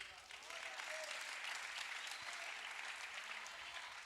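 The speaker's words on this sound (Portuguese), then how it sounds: "Dê um aplauso" A congregation at a youth church congress applauds, producing a quiet, sustained wash of clapping that holds steady for several seconds and sounds somewhat distant.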